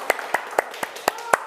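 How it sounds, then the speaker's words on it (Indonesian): Six sparse, sharp hand claps sound at a steady pace in a classroom after a group's Catholic religious education presentation. The thin smattering sits over faint room noise, with no voices in between. "Terima kasih, kita berikan tepuk tangan"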